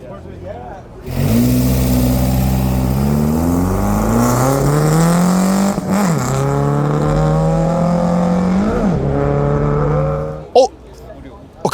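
Modified car with a boxer engine and aftermarket muffler revving loudly at close range at a cars-and-coffee meet, pitch sweeping up and down in long pulls, with a brief pause midway and a sharp cutoff near the end.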